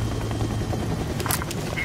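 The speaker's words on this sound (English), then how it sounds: "Looks like the helicopter's here." Helicopter arriving in the stealth game Splinter Cell: Double Agent, a steady low rotor thrum under a sharp burst of higher noise partway through, with a voice faintly present.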